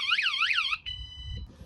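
A van security alarm whoops in rapid rising-falling sweeps, then switches to a steady high electronic tone, loud and close with no talking.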